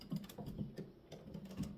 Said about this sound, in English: my kittens on playing with each other on their cat tray